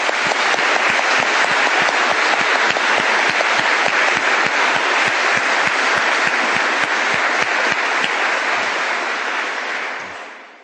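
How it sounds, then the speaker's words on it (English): Steady, sustained applause from a large crowd, dense clapping that holds for about eight seconds before tapering off at the end. "Could you join me and give me a round of applause?"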